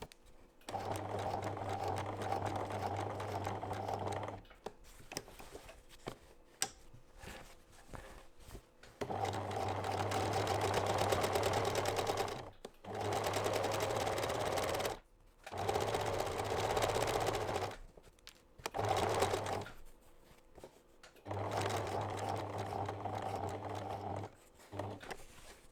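A sewing machine stitches the corners of a fabric drawstring bag made from fat quarters, running in steady humming bursts of a few seconds each, separated by short pauses as the fabric is turned.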